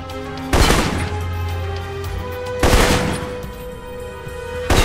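Assault rifle fire in a video game, three loud bursts of shots, each followed by ringing, echoing decay, with no talk over them.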